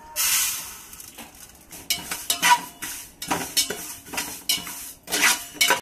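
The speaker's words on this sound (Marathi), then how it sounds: "आपण थोडेसे तीळ पण आहे ना खरपूस असे भाजून घेऊया।" Sesame seeds dry-roasting in a pan for puffed rice jaggery chikki, stirred with repeated scraping and clinking strokes of a spoon against the metal, close and fairly quiet, with no voices.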